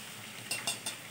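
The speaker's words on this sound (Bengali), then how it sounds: "মাছগুলোকে লাল করে ভাজতে হবে।" Vola fish fry in hot oil with a soft steady hiss, broken by three sharp taps of a utensil against the pan.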